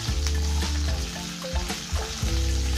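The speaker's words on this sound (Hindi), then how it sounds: "अब हम सेम पैन में क्यूमन सीड डालेंगे, जीरा और जो हमारे पटाटोस थे वो भी डाल देते हैं इसके साथ." Cumin seeds and already-fried potatoes hit a hot pan for sabudana khichdi, producing a loud, continuous sizzle broken by rhythmic scrapes of stirring close by, with no voices.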